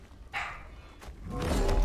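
Pet dog Appa barking indoors, a few short muffled barks at moderate distance over a rumbling, noisy room background.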